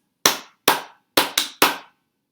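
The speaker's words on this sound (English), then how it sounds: "Clap your hands." A class of young children clap their hands together in five sharp, close bursts, two in quick succession near the end, each ringing briefly before fading into silence.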